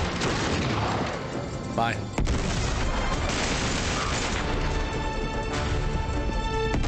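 Grenade explosions and gunfire in the video game Uncharted 3 Drake's Deception, a dense, loud barrage of booms and shots that drops out briefly, then resumes; a voice speaks briefly.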